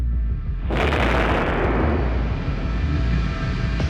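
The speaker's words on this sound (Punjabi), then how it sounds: "ਇਹ ਆਵਾਜ਼ ਧਮਾਕੇ ਤੋਂ ਕਾਫੀ ਦੂਰ ਲੱਗੇ ਸੀਸੀਟੀਵੀ 'ਚ ਕੈਦ ਹੋਈ ਹੈ" An explosion at a police station, recorded at a distance by a CCTV camera, arrives as a sudden loud burst and then a long rumbling, noisy decay over low background hum.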